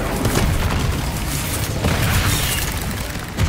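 Incendio fire spell cast in Hogwarts Legacy on PC: a loud, sustained roaring whoosh of flame with rumbling booms, continuous for a few seconds with a small burst at the end.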